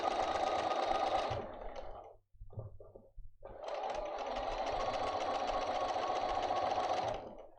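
A sewing machine stitches pleated fabric in steady, fast mechanical whirring runs, pausing briefly midway for a few short stitch bursts before running continuously again, close and clear.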